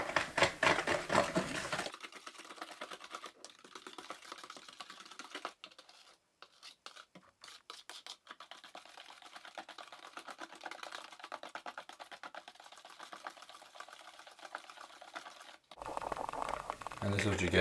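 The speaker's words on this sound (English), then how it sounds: "And then you want to whisk." A marinade of black pepper, garlic powder and chipotle powder is whisked in a bowl for homemade jerky, a fast, steady scraping rattle that runs for most of the stretch, with louder, busier bursts at the start and end.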